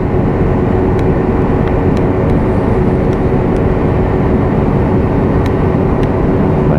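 Lexmoto LXS motorcycle cruising at a steady 40 on the road, a loud, continuous broadband engine and wind roar with an even hum and a few faint clicks, unchanging throughout with no voices.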